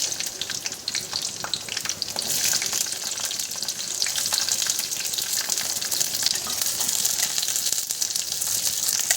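Large-cut capsicum and onion fry in a pan for paneer, a steady crackling sizzle with scattered pops and occasional stirring scrapes, close and continuous, with no voices.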